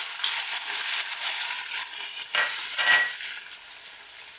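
Shallots hiss and crackle in hot oil in a pan for Kerala varutharacha konju theeyal, a steady close sizzle broken by a couple of scraping stirs, with no talking.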